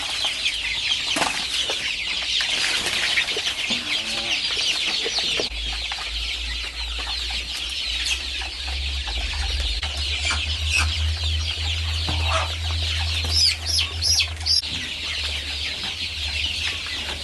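Free-range village chickens cluck and call repeatedly at close range, a busy flock with scattered louder squawks and some wing flapping, with no talking.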